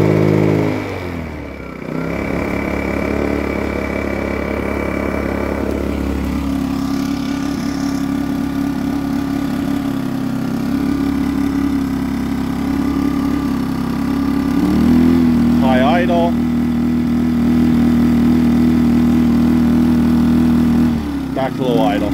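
A Yardworks 950W inverter generator on its first run hums steadily and loudly, its engine tone shifting as the load and idle speed change, with someone talking over it now and then.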